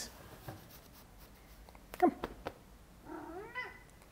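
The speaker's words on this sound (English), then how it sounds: "This is Cat, by the way, our adopted kitty cat." An adopted house cat gives a short, quiet meow near the end, after a few soft handling taps and rustles, with no talking.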